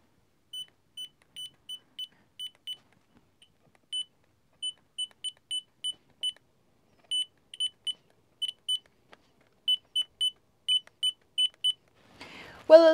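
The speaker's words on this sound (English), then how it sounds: "if there is connection, of course, you should hear a beep like this." A multimeter continuity tester beeps while connections on an NES board are checked, giving a long series of short, clear, high-pitched beeps in uneven groups over near silence, with a brief noise at the end.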